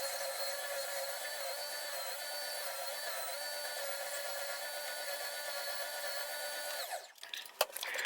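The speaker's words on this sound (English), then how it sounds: "back over to my oscillating sander and give it a really nice smooth edge." An oscillating sander smooths the edges of a wooden kids' scooter with a steady high-pitched whirring buzz that holds evenly for several seconds. The motor then cuts off, leaving a few light knocks and clatter.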